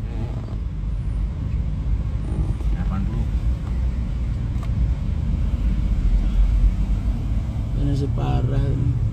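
A car sits in a Jakarta traffic jam, and from inside the cabin comes a steady low rumble of engine and road noise with faint surrounding vehicles. A voice speaks near the end over the drone.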